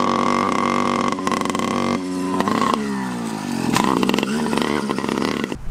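A cheap Kmart bicycle fitted with a bolted-on motor rides a motorbike track, its small engine buzzing loud and close, rising and falling in pitch as it revs and accelerates.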